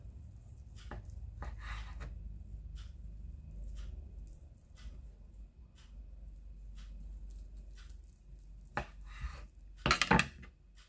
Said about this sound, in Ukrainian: Ось нарізаю зовсім тонесенько.